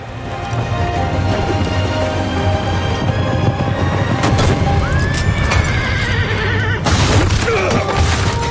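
Galloping horse in Assassin's Creed Revelations video game, hooves pounding continuously while a loud whinny rises midway, with a crash-like burst near the end, all close and dense with no talk.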